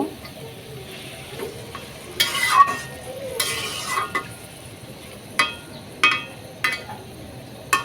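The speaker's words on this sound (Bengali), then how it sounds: "সুন্দরভাবে মাংস এবং মশলা একসাথে কষায় নিব" Desi chicken meat and spices being stirred and fried in a pan, with a low sizzle beneath sharp scrapes and clinks of a spatula that come in irregular bursts, close and fairly loud, no voices.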